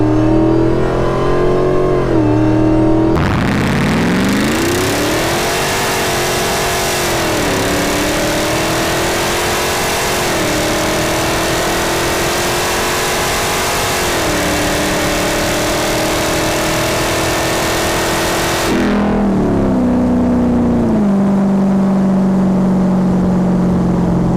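A Hellcat-swapped Jeep Gladiator of 750+ hp launching hard with traction control off, its supercharged engine roaring loud and close as the revs climb and shift through gears while the wheels spin, then dropping back to idle.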